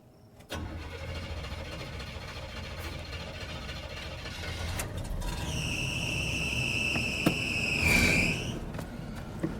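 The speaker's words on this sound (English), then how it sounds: "let's do a nice cold start here." A truck's engine cold-starts with a cranking burst, then settles into a steady idle, and a loud belt squeal rises briefly and fades near the end.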